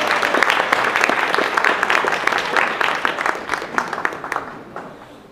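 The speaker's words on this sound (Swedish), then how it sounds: "Så jag tycker vi börjar med att ge en applåd för Helena" Audience applause for Helena at a Swedish cultural gathering on multiculturalism, a dense wash of many hands clapping close and steady, swelling slightly then thinning out toward the end.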